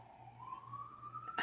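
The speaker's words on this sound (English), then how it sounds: "we have a siren" A fire truck siren going by outside, a faint steady tone slowly rising in pitch over a low hum, heard from a distance before a sudden louder burst at the end.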